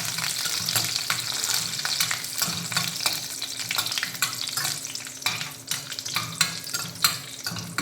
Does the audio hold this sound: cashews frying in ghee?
yes